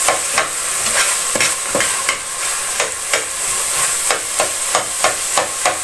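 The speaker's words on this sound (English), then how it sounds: "A little more roasting as I said. Now the tomato paste and the meat develop their whole flavor." Tomato paste and ground meat for a Bolognese sauce roast in a hot pan, giving a steady close sizzle broken by regular scraping strokes as the mixture is stirred, with no voices.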